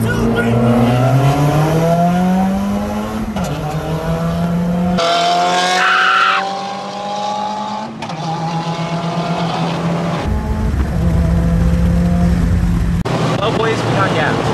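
A Stage 2 tuned Subaru WRX accelerates hard in a drag race, its loud engine climbing in pitch through several gear changes with brief dips at each shift.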